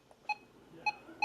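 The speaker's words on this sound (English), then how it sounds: "and this is the one on the 521." Button beeps from a RadioShack 12-521 radio: three short, clear electronic tones, evenly spaced and loud against a quiet background hiss, with no voice.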